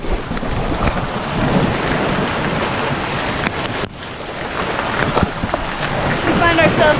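Heavy rain pours through the streets of Guanajuato, a colorful colonial city in Mexico, a steady broadband wash with wind-like roar that holds throughout, a brief dip near the middle, and voices talking faintly beneath it.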